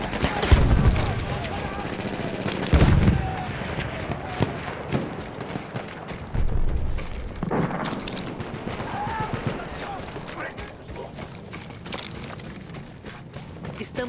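Battlefield 1 gameplay gunfire: rapid rifle and machine-gun bursts with heavier booms and explosions layered over a dense battle din, with game voices calling out objectives throughout.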